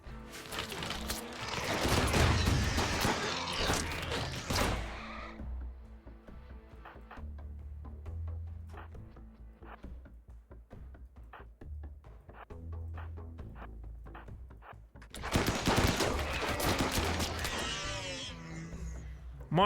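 Turrets in the video game RimWorld fire in dense, crackling bursts at the start and again near the end, with sparser mechanical clicks and low game sounds in between.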